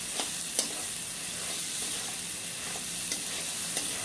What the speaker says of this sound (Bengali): এই লাগা মানে মশলা আমার লেগে যাচ্ছে, মানে মশলা কষে যাচ্ছে